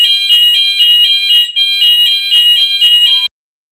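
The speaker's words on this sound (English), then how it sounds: "fire alarm." A fire alarm sounds loudly and close, a rapid series of harsh high-pitched electronic beeps in a steady pulsing pattern that cuts off abruptly into silence.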